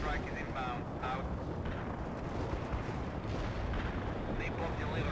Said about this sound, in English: Napalm delivered on the coordinates.